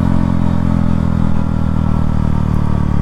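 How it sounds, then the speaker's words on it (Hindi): Small motorbikes ride along with a loud, close, continuous engine drone and clattering hum, the motors holding a steady pitch without pauses or talk. "ये छोटी छोटी फ्लाई बाइक"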